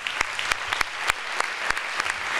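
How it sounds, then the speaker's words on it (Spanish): Scattered clapping rings out at a public political event as a local football club's board, players and staff are honored; sharp, separate claps in an irregular rhythm, moderately close and without voices. "que le daría un fuerte aplauso"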